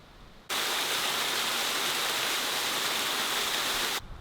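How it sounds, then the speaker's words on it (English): A small waterfall beside a creek in North Carolina pours in a steady, close, full hiss that starts abruptly and runs unbroken for several seconds before cutting off. "go look at this little waterfall that's like right across the street"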